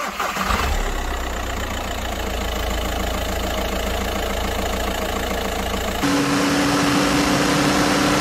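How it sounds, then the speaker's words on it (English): An Audi R10 TDI Le Mans prototype race car with a diesel engine runs with a steady mechanical drone and knocking pulse, shifting to a higher, harsher tone near the end, with no voices. "Here you can see the infamous Audi R10 TDI race car driving around track."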